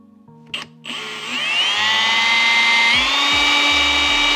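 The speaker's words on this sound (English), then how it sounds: "that's roughly where you're gonna wanna drill your hole for your harness to go through." A power drill bores a roughly 3/8-inch hole through a 2021–2025 Ford truck bin panel: a short click and rev, then a loud, close, steady high-pitched whine that holds for several seconds with slight pitch shifts.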